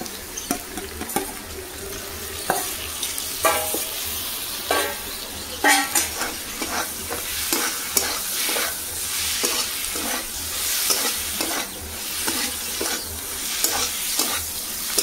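Minced prawns fry in a pan with a busy sizzle, broken by repeated scraping stir strokes that come in an irregular rhythm.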